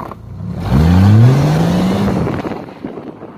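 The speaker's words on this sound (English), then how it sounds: "So when I smash the throttle, it's going to give me a lot of torque at these tires." A Jeep 4x4 engine revs hard as the throttle is floored, a loud, close roar that climbs steeply in pitch and then holds a strained, rising drone before easing off slightly, with no voices.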